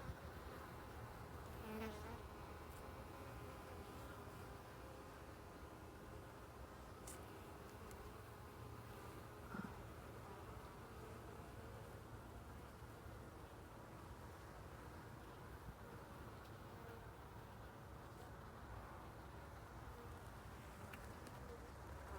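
Honey bees from an open backyard hive drone in a steady, dense buzz throughout, loud and close, with individual insects swelling past now and then and no talk over it.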